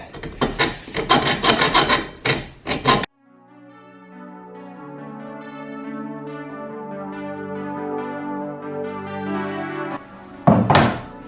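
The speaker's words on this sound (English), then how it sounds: "I always just get a little metal saw out and I'll just saw in a flathead normally" A small hand metal saw cuts a slot into a bolt head on a 2012 Polaris Sportsman 400 HO four-wheeler, rasping in quick back-and-forth strokes at the start and again briefly at the end, separated by a long pitched tonal stretch.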